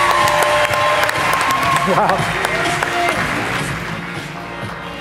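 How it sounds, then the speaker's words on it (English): Audience applause at the ASM Summit 2017 conference, welcoming a speaker to the stage: dense, loud clapping from a sizable crowd that holds steady and fades slightly toward the end, with a single voice exclaiming briefly over it. "please give a huge round of applause for Chelsea Cohen"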